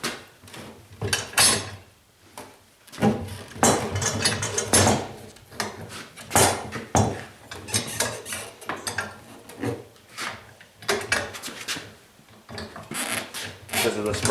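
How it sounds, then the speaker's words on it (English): A Harbor Freight manual motorcycle tire changer breaks the bead on a Yamaha TW200 wheel, with repeated creaking, ratcheting metal clunks and rubbing strains in uneven bursts, while people talk close by. "that's how you break the bead on the thing"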